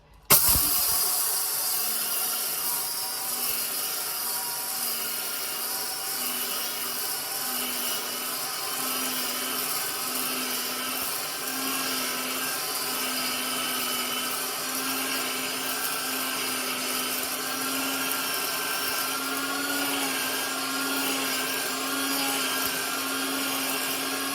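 A kitchen grain grinder runs steadily for the full stretch, giving a continuous, fairly loud motor whir with a steady hum and no pauses.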